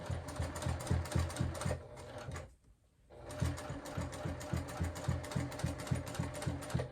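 Sewing machine stitching fabric for a zippered clutch purse with a presser foot, a fast rhythmic mechanical clatter that stops briefly for about a second, then resumes at the same steady pace, close and loud.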